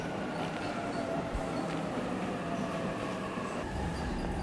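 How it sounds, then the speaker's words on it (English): A train pulls into a station in the video game 13 Sentinels: Aegis Rim, a steady broadband rumble of wheels and carriages with a faint high squeal, continuous and fairly close, with no voices. "Train's already here."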